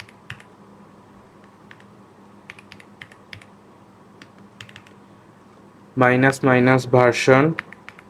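Keys on a Windows 11 computer keyboard tap out a command in sparse, light clicks at close range, followed by someone speaking briefly near the end.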